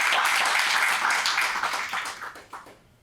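Audience applause at a clean energy forum in Boston, a dense, steady wash of many hands clapping that holds strong for about two seconds, then thins and fades out with a few last scattered claps.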